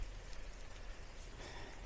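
Steady rain falls through woodland at dusk in Cornwall, a soft continuous patter and hiss of drops on leaves and ground, fairly faint and even throughout with no voices.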